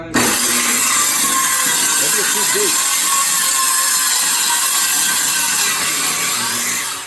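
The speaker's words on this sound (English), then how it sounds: "This is not the best skill saw to use." A circular skill saw cuts loudly through a mobile home floor, its harsh whining buzz steady and close for about seven seconds, with a voice briefly audible under it.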